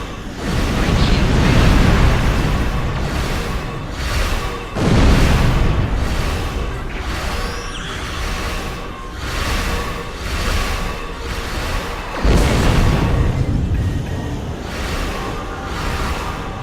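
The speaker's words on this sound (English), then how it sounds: "Got him with my aft torpedoes" Aft torpedo hits and explosions in Star Trek Online starship combat: several heavy booming blasts arrive in waves, each a loud burst that slowly rolls off into a dense rumbling roar.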